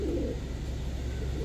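A female red Gola pigeon with an upright crest coos in a low, soft, continuous rumbling murmur, heard close for a brief moment.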